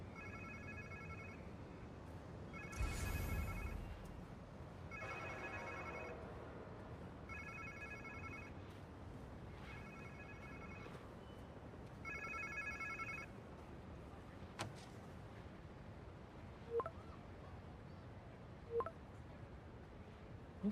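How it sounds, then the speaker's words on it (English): A cell phone ringing inside Marvel's Spider-Man 2, its electronic ringtone repeating in regular bursts roughly every two and a half seconds over the game's ambient background, with a few sharp clicks and thuds near the end. "Sounds like somebody's phone."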